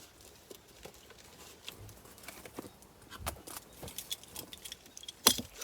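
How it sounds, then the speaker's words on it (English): Plastic shrink-wrap on a Tiny Epic Vikings board game box being cut and pulled away: faint, scattered crinkling and scraping with a sharper snap near the end, no talking. "shift the paperwork, and then cut through the plastic"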